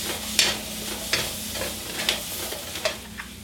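Peppers sizzle in a stir-fry pan for a Mediterranean stir-fry, a steady frying crackle broken by several sharp scraping stirs spaced roughly every half second to second.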